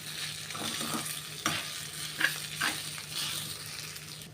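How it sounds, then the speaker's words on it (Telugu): Food is stirred and tossed in tempering oil in a wide pan, a soft sizzle under scraping and mixing strokes with a few sharper clinks of the utensil against the pan, and no voices. "మూకుడే విశాలంగా ఉంది కాబట్టి చక్కగా దీంట్లో కలిపేసుకుంటే ఆ పోపుకున్న నూనె అంతా కూడా దీనికి పట్టేస్తుంది."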